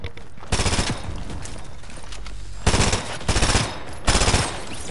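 Automatic gunfire in a shooter video game: several loud, rapid bursts of shots close by, separated by short pauses, with background game ambience.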